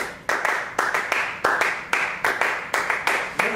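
Two people clap a steady rhythm together, about ten sharp, close handclaps spaced evenly with no talking.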